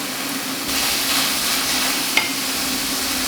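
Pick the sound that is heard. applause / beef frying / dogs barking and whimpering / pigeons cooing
beef frying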